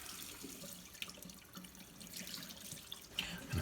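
Tap water runs into a bottle while cleaning an old Strapside truck part, a quiet steady stream with small splashes and a brief sharper gurgle near the end, no talking.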